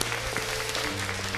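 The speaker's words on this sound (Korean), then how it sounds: "힘차게 영광의 박수 한번 올려드리겠습니다." A church congregation claps during worship in a short, fairly faint burst of dense applause, with a low sustained tone underneath.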